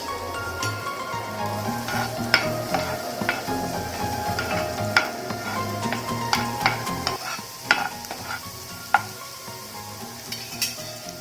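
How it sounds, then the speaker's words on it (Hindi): Chopped garlic sizzles steadily in hot oil in a pan, with a constant frying hiss broken by frequent stirring scrapes and light clinks of a utensil against the pan throughout. "अब हमें इसके अंदर 1 टेबलस्पून चॉप्ड लहसुन डालना है।"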